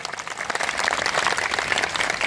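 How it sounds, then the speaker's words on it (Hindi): An audience at a government school gathering applauds for a student, a dense, steady burst of clapping from many hands. "हमारी बच्ची लवदीप कौर के लिए तालियां"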